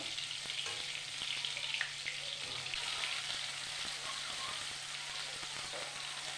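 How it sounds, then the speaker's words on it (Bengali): Prawns frying in hot oil for a Bengali chingri bhapa, a steady broad sizzle with scattered small pops and crackles running throughout, fairly close and even in level. "তো মাছগুলো হালকা করে ভেজে নিয়েছি"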